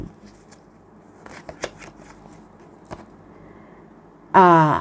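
Tarot cards being shuffled during a fire-sign love reading: soft riffling and scattered card slaps at low level, then a brief, loud burst of riffling near the end, with no talk.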